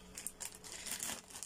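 A large plastic parcel bag crinkles and rustles as it is handled, a close, steady run of soft crackling over a faint low hum.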